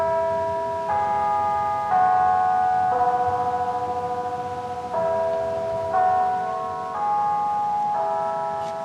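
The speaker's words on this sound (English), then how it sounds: "we heard the chimes of clock bells in the distance." Clock bells chime in a Japanese park at noon, a sequence of sustained, ringing tones struck about once a second, each overlapping the last, steady and clear against a quiet outdoor backdrop.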